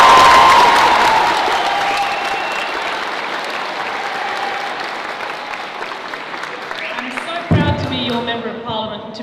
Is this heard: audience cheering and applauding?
yes